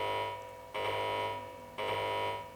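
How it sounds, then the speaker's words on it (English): An alarm goes off inside the Wild Arms 2 video game as a steady electronic tone with a buzzing edge. It pulses in two sustained blasts that each fade slightly before the next one starts. "Lilka, did you trigger your alarm?"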